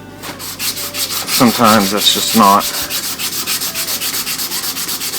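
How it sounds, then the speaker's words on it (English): Sandpaper rubs rhythmically over the wooden body of a Telecaster electric guitar being stripped, a close rasping stroke repeating about twice per second, with someone talking briefly over it early on. "it's probably best when you're sanding to go with the grain if you can"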